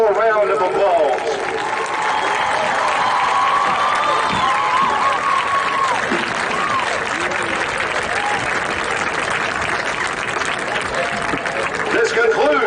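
Crowd at a high school football game applauding Wall of Fame inductees, sustained clapping and some cheering from the stands, with a voice over the loudspeaker partway through.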